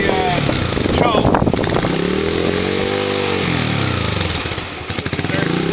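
A 125 dirt bike engine runs loud and close while warming up, its rough idle rising and falling in pitch through a few gentle revs, with someone talking over it.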